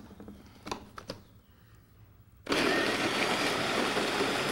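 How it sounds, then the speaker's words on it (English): A blender switches on and runs steadily, loud and close, blending raisins, plantain and bread for a chili sauce in Puebla, Mexico; quieter clatter and handling noises come before it starts. "So we'll use the bread to scoop into the blender."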